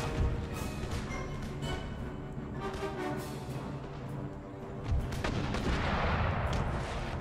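Artillery and musket volleys across an Empire Total War battlefield, a dense, continuous rumble of overlapping gunfire with heavier booms swelling near the end, distant-sounding yet loud.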